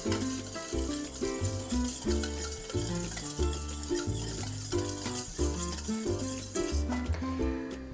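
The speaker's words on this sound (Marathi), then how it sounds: "ते दही आता चांगलं फेटून घेते" Curd being whisked in a bowl for fasting-style curd rice, with quick, regular, close stirring and beating strokes repeating steadily throughout and no talking.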